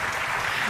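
Applause and clapping from an audience at the close of a diplomatic panel discussion with foreign ministers in Doha, Qatar, a dense steady burst filling the whole brief moment.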